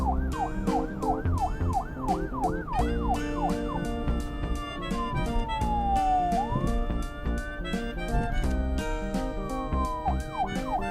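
A Lego City toy police car siren wails loudly and steadily with rapid rising yelps, then a long slow sweep, under an electronic beeping pulse, close and continuous.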